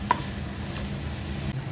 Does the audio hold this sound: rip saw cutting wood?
no